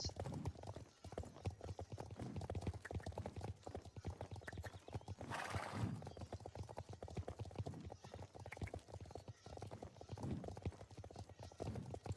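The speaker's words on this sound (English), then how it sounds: "The horse breathing and the change in the sound for the different surfaces that the horses are running on." Horse hooves clip-clop steadily in a video game, the steps shifting in tone as the surface underfoot changes, with the horse's breathing and a brief whinny-like burst partway through; a voice talks faintly underneath.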